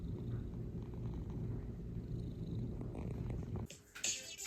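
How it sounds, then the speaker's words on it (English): A cat purrs close up, a continuous low rumbling drone that runs evenly for several seconds before a brief rustle at the end. "He is just purring away."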